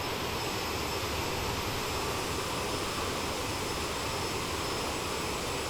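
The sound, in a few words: CRJ700 jet engines in Microsoft Flight Simulator video game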